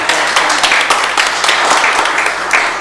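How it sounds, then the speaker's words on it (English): Steady applause from a council meeting audience in Bastrop, Texas, clapping for a group of young people; dense, continuous clapping fills the room for about three seconds with no talk over it. "Let's give these young people a round of applause."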